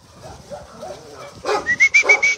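Several dogs at an animal shelter give a quick run of close, loud, rhythmic barks that follow a few softer whimpers and yips.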